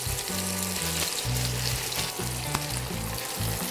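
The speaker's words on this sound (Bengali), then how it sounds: "আচ্ছা, তেলটা গরম হয়ে গেছে, আমি এটা দিয়ে দিই।" Small mourola fish fry lightly in hot oil, giving a continuous bright, hissing sizzle with a low droning hum running underneath throughout.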